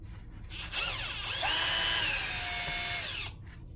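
A power drill or driver whirs steadily for about two seconds, removing screws from a Traxxas Rustler RC car during an aluminum upgrade, close and loud, with a pitch that rises as it spins up and sags under load.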